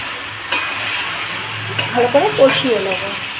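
Turmeric, coriander-cumin and red chili powder stir-fried in hot oil for a Bengali chital fish curry, a steady low sizzle with a few sharp spatula scrapes and clinks near the pan.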